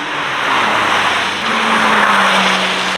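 A Porsche 964 race car on a track at Summit Point Motorsports Park, its engine a steady loud drone that rises in pitch partway through, holding on for about three seconds with no voices.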